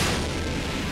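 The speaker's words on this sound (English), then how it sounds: "Explosions! There we go." Game explosions from the action game Mystical Chain, rendered as a dense, continuous roar of booms and bursts that fills the whole short moment at steady loudness, with no talk over it.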